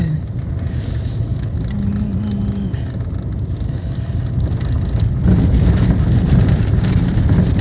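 A car drives along a town street, its engine and road noise forming a steady loud rumble with wind buffeting that swells slightly toward the end, with no clear talk over it.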